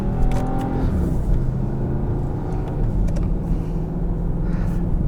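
Engine of a 2018 Porsche Panamera Turbo Executive accelerating, heard from inside the cabin as a loud, continuous low rumble with rising revs and road noise throughout.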